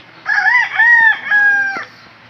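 A gamecock rooster crows loudly and close by, one full cock-a-doodle-doo in several drawn-out segments, with no talking.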